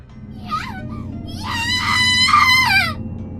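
A girl in the Japanese horror game Corpse Party: Book of Shadows screams, a short cry and then a long, piercing, wavering shriek in two surges, loud and close over a low rumbling ambience.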